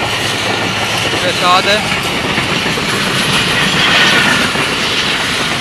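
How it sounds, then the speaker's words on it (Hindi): A down express train rolls through a railway station in rainy weather, a loud continuous rumble with wheel clatter and a brief horn-like tone, while someone talks over it. "ये आ गई डाउन की एक ट्रेन HGMU 30"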